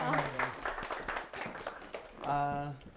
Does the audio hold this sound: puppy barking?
no